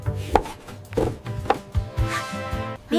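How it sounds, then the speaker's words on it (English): A kitchen knife chops fresh squid into rings on a cutting board at home, firm irregular thuds landing about every half second, close and clear, with no voices. "he washes the squid and chops it into rings"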